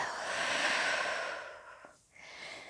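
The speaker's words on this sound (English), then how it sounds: "Inhale. Exhale. Inhale. Exhale." A slow, audible breath during a yoga class, a long airy exhale that fades into a short pause before a softer inhale begins, close and alone without speech.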